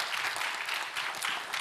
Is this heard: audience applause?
yes